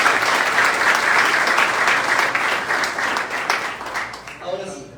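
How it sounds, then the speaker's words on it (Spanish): Sustained applause from an audience filling a university auditorium during a commemorative ceremony, dense and steady for several seconds before tapering off at the end. "¡Aplausos!"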